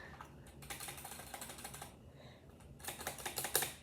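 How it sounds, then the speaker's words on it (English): Rapid key clacks from a cheap computer keyboard with a modded, rattly build and novelty keycaps, typed in two bursts around a short pause, close up and fairly crisp. "Now we're gonna do this keyboard. It's cheap."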